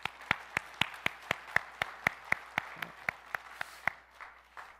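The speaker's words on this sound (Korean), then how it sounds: "우리 하나님께 감사의 박수 하겠습니다." A church congregation claps in unison to give thanks to God, striking about twenty sharp, evenly spaced beats at a brisk tempo before the rhythm loosens and fades into scattered claps.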